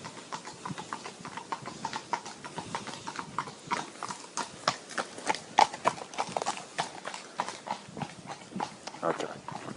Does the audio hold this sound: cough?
no